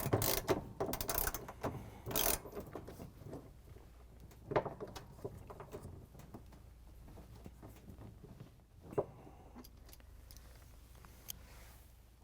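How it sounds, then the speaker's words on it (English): A ratchet with an extension and 9/16-inch socket tightens the pulley bolt on a GE washing machine transmission, with intermittent bursts of clicking ratchet strokes and metallic clatter between pauses. "We're going to grab the 9/16" socket with the ratchet and the extension, tighten it down"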